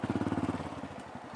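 Manual motorcycle engine as the clutch lever is eased out and the throttle opened: a close, loud pulsing idle thump that smooths and rises into a steadier engine note as revs climb.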